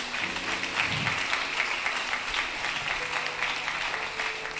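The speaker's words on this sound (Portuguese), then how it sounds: "Aplaude o teu Deus, aplaude." A church congregation applauds God during a sermon, producing steady, continuous clapping from many people that fills the room at an even level throughout.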